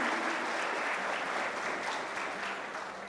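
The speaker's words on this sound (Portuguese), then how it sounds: "Uma salva de palmas a todos eles também," Sustained, even applause from a large audience fills a conference hall at a spiritist conference, a continuous clapping roar that eases slightly toward the end.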